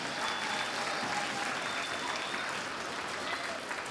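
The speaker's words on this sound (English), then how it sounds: "So please give them a round of applause for being here." An audience claps in a theatre during a school reading-challenge launch event, steady dense applause throughout with no pause.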